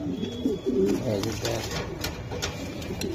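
Racing pigeons coo nearby in soft, low, throaty calls repeated a few times, with faint background noise and clicks around them.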